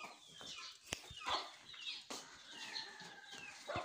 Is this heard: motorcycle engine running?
no